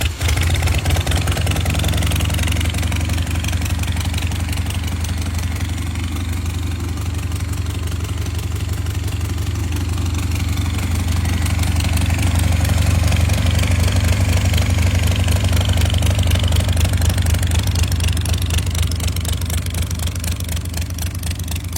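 A classic motorcycle for sale with both electric and kick start, choked and idling steadily after an electric start, with a loud, close, low throbbing engine rumble that continues evenly throughout with a slight rise partway through.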